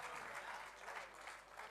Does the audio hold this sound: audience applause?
yes